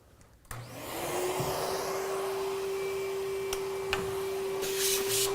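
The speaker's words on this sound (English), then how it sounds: "the first process, and really in all interior processes, is going to be to vacuum the car." A vacuum cleaner runs inside a car during interior detailing, starting up and then holding a loud, steady whining drone for several seconds, with faint bumps as the nozzle moves over the carpet.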